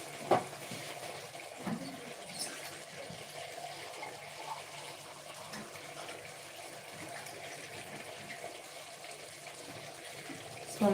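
Water for chapati dough pours and gushes into a pot, a continuous faint splashing and trickling with a few small clinks, heard alone throughout.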